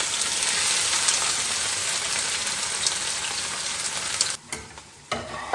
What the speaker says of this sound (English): My olive oil is nice and hot. I'll start with the fennel and the green onions that I cut.